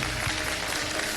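A studio audience at a televised Ramadan iftar show applauds for a guest's family, a short, dense wash of clapping that fills the whole moment at steady loudness.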